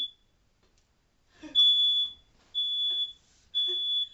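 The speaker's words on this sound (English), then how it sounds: "there goes my smoke alarm" A smoke alarm in a kitchen sounds three loud, piercing beeps, each lasting about half a second, separated by short pauses.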